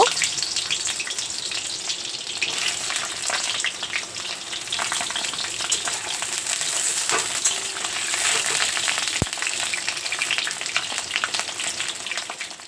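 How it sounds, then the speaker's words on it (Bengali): Pointed gourd pieces fry in hot mustard oil in a pan, a steady close sizzle with crackling bursts running without pause for the whole stretch. "তেল গরম হয়ে গেলে প্রথমে পটলগুলোকে ভেজে নেব"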